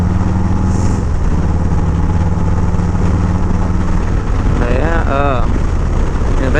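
A 2024 Harley-Davidson Road Glide being ridden, its engine a loud, steady low rumble close up with constant wind buffeting, and a brief rising whine near the end.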